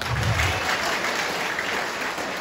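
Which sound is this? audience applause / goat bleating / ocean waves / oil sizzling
audience applause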